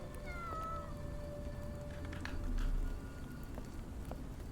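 A cat meows a few times in a video game, short rising tonal calls set close against a steady low game ambience.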